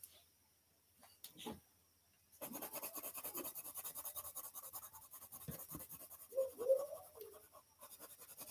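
Coloring pencil scratching across paper while coloring a cartoon drawing, a steady close, raspy stroking texture that starts after a short quiet pause and continues with slight swells.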